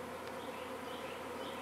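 A swarm of bees buzzes densely around the entrance of a swarm trap, a steady, close hum with no talking.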